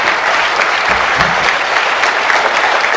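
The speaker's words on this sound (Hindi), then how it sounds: "इनके लिए एक जोरदार क्लैप" A seminar audience applauds loudly, a dense, continuous wash of many hands clapping at once, steady and strong throughout with no speech over it.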